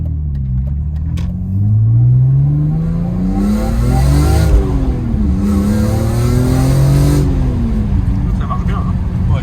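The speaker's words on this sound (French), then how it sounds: "j'adore le son de cette voiture-là parce que c'est un bruit vraiment atypique" A BMW M3 engine revs under way, a loud deep rumble rising and falling through several gear pulls, heard from inside the car with faint background sound.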